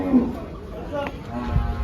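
A Gir cow gives a low, drawn-out moo close by at a cattle market in Dhule, Maharashtra, set against general background noise of a busy outdoor place.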